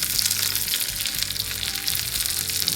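Sliced shallots, curry leaves and fenugreek seeds sauté in hot oil for a fish curry, giving a close, even crackling sizzle with a busy spattering texture throughout.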